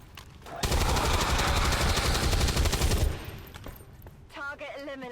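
A sustained burst of automatic gunfire at point-blank range in the video game XCOM 2, loud and rapid for about two and a half seconds, then fading into a short electronic game voice.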